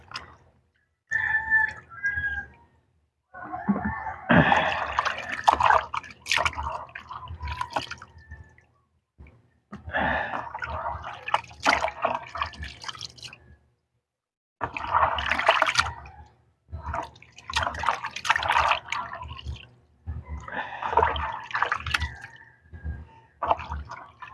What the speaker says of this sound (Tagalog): ihugas muna natin mga kabinal yan para malinis talaga mga kabinal